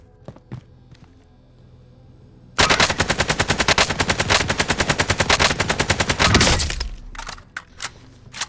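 Automatic gunfire in Call of Duty: Modern Warfare, a sustained rapid burst of loud shots lasting about four seconds, preceded and followed by faint footsteps and scattered distant pops.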